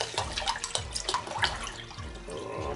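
Bottled water glugs into a measuring container in quick, irregular bursts of splashing and gurgling, close and fairly quiet, with no voices.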